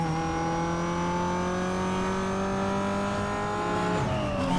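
Cars in the video game Need for Speed Most Wanted Black Edition accelerate with a steady, rising engine whine and harmonic drone, loud and close, then a gear shift drops the pitch near the end.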